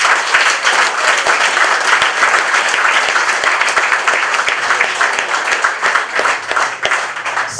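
Sustained audience applause at a political speech, dense and continuous clapping from a large crowd with no pauses.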